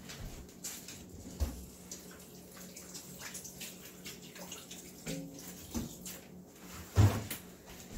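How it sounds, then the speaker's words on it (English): Running tap water in a home kitchen while hands are washed before handling a Thanksgiving turkey, a steady low wash of flow broken by a few short knocks and clatters, fairly quiet and close. "let me wash my hands real quick"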